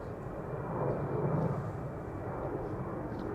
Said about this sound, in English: Now body's taking off from the center as well,